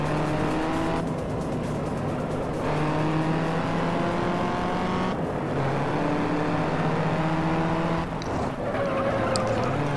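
A VW Golf race car engine roars at full throttle in the racing video game Juiced, a loud steady drone with pitch shifts as gears change, continuous throughout.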